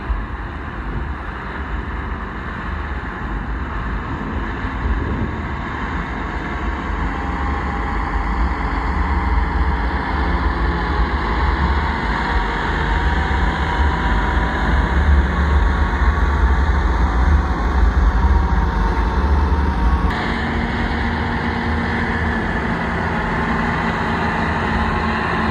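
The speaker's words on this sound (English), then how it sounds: "which has enabled the tractor to get enough traction to pull it. But like I say, it is going at full chat." A tractor pulling a subsoiler through a farm field at full power, its heavy engine roaring steadily and loudly throughout with constant rumbling mechanical drone and no speech.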